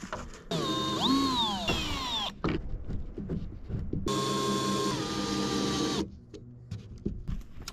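A power driver undoes screws from a wooden piece of a log firewood storage build, giving two whirring, whining motor runs with rising and falling pitch, each lasting a couple of seconds, with quiet handling noises between them.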